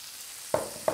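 A big chili pepper drops into a hot pan and sizzles, heard as two short sharp bursts of frying over a low background hiss.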